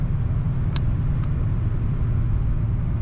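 A 1974 Lincoln Mk IV's engine gives a deep, steady low rumble under throttle while cruising on the road, a continuous close drone heard from inside the car.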